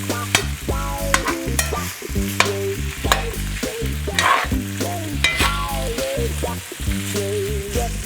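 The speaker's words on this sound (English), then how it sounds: "add it to our andouille sausage. Give it a quick toss." Andouille sausage is tossed in a hot pan, sizzling and frying steadily with occasional stirring scrapes, mixed under prominent background music.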